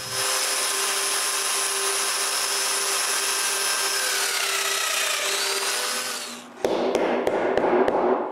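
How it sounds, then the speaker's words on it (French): A domino joiner cutting mortises in wood for a bandsaw base, a steady high motor whine held for several seconds before winding down, followed by a few sharp clicks and taps. "je perce les mortaises"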